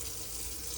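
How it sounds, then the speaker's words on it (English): Water gushing steadily from a tap in a Hymer Exsis Silverline motorhome with the water pump running, a continuous close hiss with no talk. "turn your water pump switch on and draw the hot water"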